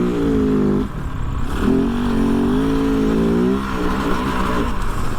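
A 2023 Kove FSE 450R Rally motorcycle's single-cylinder engine drones loudly and close, dipping briefly before pulling back up and wavering in pitch as the rider varies the throttle.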